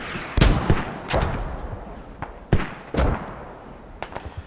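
Mortar tubes firing in the military shooter game Squad, a series of heavy booming thumps with sharp cracks at irregular intervals, loud and close, over a constant rumbling background.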